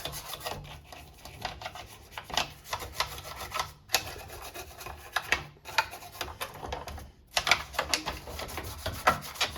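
Dirty GI Joe Tomahawk toy helicopter parts being scrubbed clean in a small sink: irregular rubbing and rasping strokes, close and fairly quiet, coming in short bursts with brief pauses.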